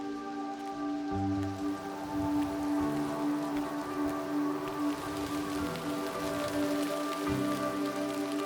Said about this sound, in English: It's been raining the whole day.